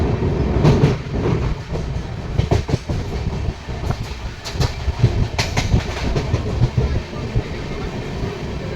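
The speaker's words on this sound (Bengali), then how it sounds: "চলে এসেছে আমাদের ট্রেন।" A train pulling into a station in Delhi, loud rumbling with rhythmic clickety-clack of wheels over rail joints and clanking carriages, steady and close throughout.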